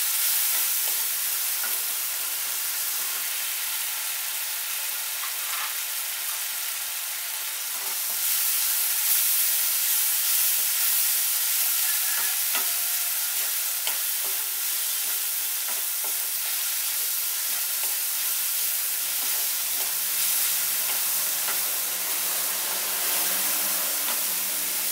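Turmeric-laced spice paste sizzles steadily in a pan for Bengali egg paturi, a continuous close frying hiss with occasional stirring scrapes, rising slightly louder midway and running alone without talk.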